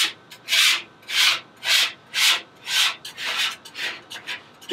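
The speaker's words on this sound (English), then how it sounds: "So just get to scraping, try to get as much of it off the sides." Rhythmic scraping inside a Lone Star Grillz offset smoker, a series of loud, close rasping strokes against the metal sides, about a dozen passes that grow shorter and quicker toward the end, with no talking.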